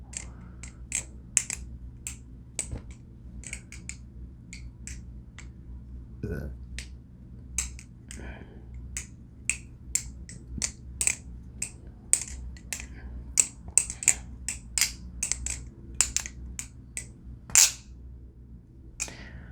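A balisong knife fitted with Zippy handle caps is flipped in quick bursts, its sharp metallic clicks and snaps coming close and crisp, at irregular intervals, over quiet background.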